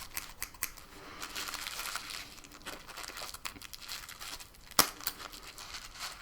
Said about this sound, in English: I'll get my scissors.